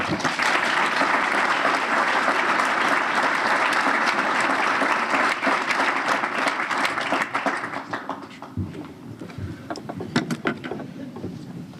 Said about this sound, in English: a big round of applause for Representative David Beal